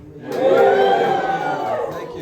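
Comedy club audience at a stand-up show cheering and applauding loudly, a dense crowd roar that swells quickly, peaks early and holds for about two seconds.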